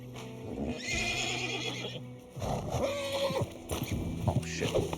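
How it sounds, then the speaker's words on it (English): A wild horse in a video game gives two loud, close whinnies, a long shrill neigh and then a second with a shaky falling pitch, with faint hoof clops in between. "We will spawn a wild horse right in front of us."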